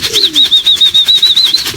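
Pigeons giving a steady run of soft throaty coos with a high chirping whistle layered over them, close and loud, repeating in an even pulse with no voices.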